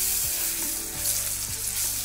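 Water spinach (kalmi shak) frying in a pan gives a steady close sizzle, with a few soft stirring knocks over roughly two seconds and no voices.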